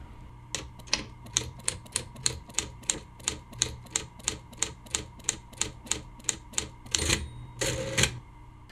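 Typewriter keys strike in a steady, evenly spaced series of crisp clacks, about two per second, ending with two longer rattling bursts like a carriage return, close and clear with no voices.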